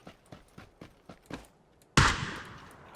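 A gunshot in a video game: a single sharp, loud blast with a fading tail, after a run of soft, evenly spaced footstep-like taps.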